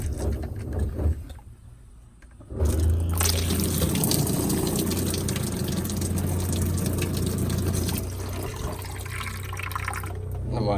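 Water runs from the shower head inside a camper RV, a steady splashing hiss that starts abruptly after a quieter moment and continues close and loud to the end.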